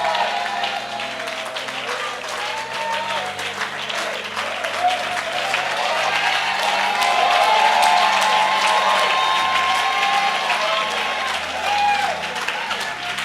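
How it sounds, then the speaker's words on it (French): A church congregation stands and applauds for Jesus, a broad swell of clapping and cheering voices that builds and holds steady, filling the room at a fair distance. "Lève-toi et puis acclame très fort le Seigneur Jésus."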